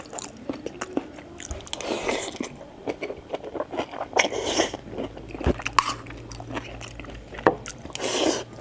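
Close, crisp biting and crunching of food during a meal, with repeated chewing sounds in an irregular rhythm, near the microphone and mostly alone, with faint background noise.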